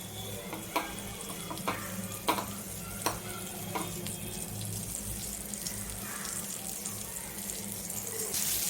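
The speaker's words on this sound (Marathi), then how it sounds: "हे पहा, मी मासे फ्राय करायला ठेवलेले आहेत." Bombay duck (bombil) coated in gram flour, semolina and rice flour batter frying in a pan, a steady low sizzle with a few sharp clinks and taps, no voices.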